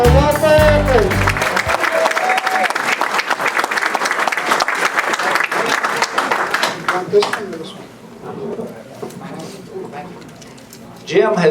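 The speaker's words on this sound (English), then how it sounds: "give me a loud round of applause for Walter Wofford" An audience at a seminar on affordable housing breaks into sustained applause for the speaker, dense clapping that fades out after several seconds, with a voice over it at the start.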